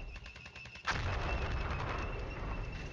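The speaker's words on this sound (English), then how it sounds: "And on-call artillery is going down." Artillery fire in the wargame Flashpoint Campaigns: Southern Storm: a dull low boom lands about a second in, then a sustained roaring rumble of barrage fire continues loud to the end, with no talking.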